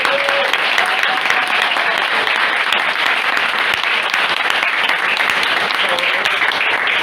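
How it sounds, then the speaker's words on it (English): Sustained, loud audience applause for the guests of a Mortal Kombat cast panel at a Nashville gaming event, dense steady clapping filling the room with a few voices mixed in. "Let's give a round of applause for all of them"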